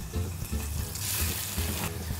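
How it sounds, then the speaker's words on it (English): A sea bream fillet sizzles skin side down in a hot pan, a soft continuous hiss with faint low bubbling and a few light pops. "We've got a nice sizzle there."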